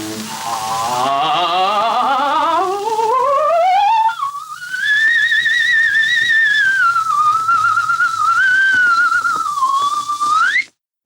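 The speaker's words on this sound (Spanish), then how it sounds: "Escuchemos ahora a otra voz recorrer 5 octavas de manera continuada" A single trained voice sings one continuous sweep up through five octaves, gliding from low to a very high whistle-like register and holding it with slight wavering, close, loud and unaccompanied.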